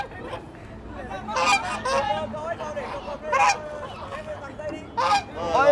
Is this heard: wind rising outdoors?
no